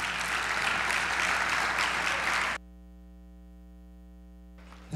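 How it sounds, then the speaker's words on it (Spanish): Audience applause welcoming the guest expert Dr. Italo Pizzolante to the main stage at a keynote conference, a dense steady roar of clapping that cuts off abruptly, leaving a faint mains hum. "Recibámoslo con un fuerte y caluroso aplauso"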